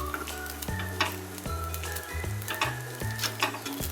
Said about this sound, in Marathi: आता ते सगळे एका साईडनं परतून घ्यायचे